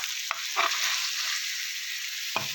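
Chicken for Nellore chicken sukka sizzling in a pan while ground roasted masala powder is stirred in, a bright steady hiss broken by a few sharp scraping strokes, close with no voices.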